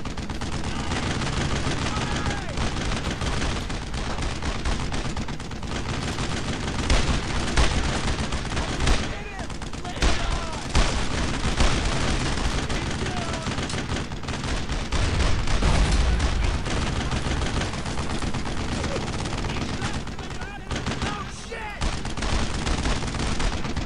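Sustained gunfire in the World War II shooter Brothers in Arms: Road to Hill 30, with dense rifle and machine-gun fire crackling nonstop and occasional heavier booms, as soldiers shout over the fighting.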